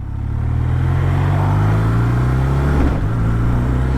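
A BMW R12 G/S motorcycle engine pulls hard, then briefly dips as it shifts gear on the quick shifter, the upshift from first to second slightly choppy. The engine drones loud and close, with no talking.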